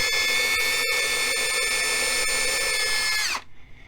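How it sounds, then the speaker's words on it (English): A power drill with a 1/16 inch bit boring pilot holes while a stove top cover is installed, a loud steady high whine close up that spins down abruptly at the end. "I have a 1/16 inch diameter drill bit here that I'm drilling pilot holes with"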